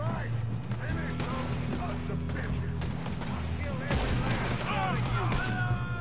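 Shots ring out in a Red Dead Redemption 2 shootout, dense overlapping gunfire and booms under steady game music and voices, loud and continuous across the scene.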